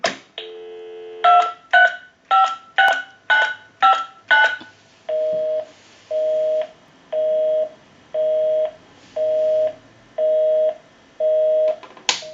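A repaired single-slot touch-tone payphone dials out with a quick run of clear DTMF beeps, then a steady on-off busy signal repeats about eight times, loud and close with no talking.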